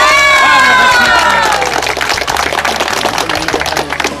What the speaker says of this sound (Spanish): Un fuerte aplauso para nuestro hermano,